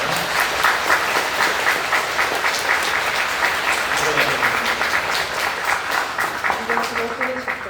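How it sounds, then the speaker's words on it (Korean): Church congregation applauding steadily and loudly for newly baptized members at a Catholic feast-day Mass, sustained clapping filling the room with brief voices speaking over it near the end. "우리 새 영세자들 기쁨의 축하로 박수로 환영해 주시면 좋겠습니다"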